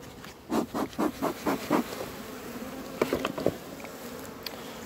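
Honeybees hum steadily in the background while hive frames are handled, a series of short rubbing and scraping bursts coming in quick succession, then a few sharper clicks.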